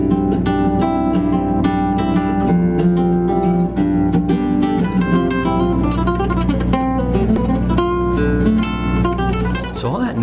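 A ship's engine drones low and steady on a three-hour cruise boat, running beneath loud, continuous solo rumba flamenco guitar being played during a sound check.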